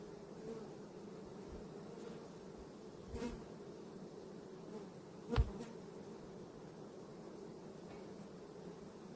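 Honey bees in a Varroa mite check sample give off a faint, continuous buzzing hum, steady and close, with a few soft knocks and no voices.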